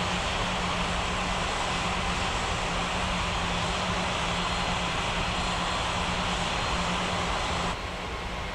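An airliner taxis to the gate at an airport, its engines giving a constant, close, broadband roar that holds steady almost to the end, with no talking.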